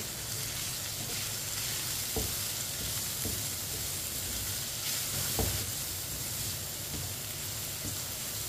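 Finely chopped cabbage and a capsicum sizzle steadily in a pan for chicken macaroni, with a few sharp scrapes of stirring. No one speaks.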